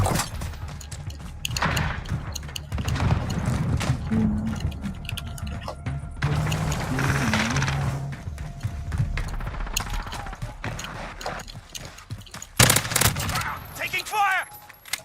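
Video game gunfire crackles in dense, overlapping bursts amid a busy mix of thuds, mechanical clanks and in-game voices, with one sharper, louder volley near the end.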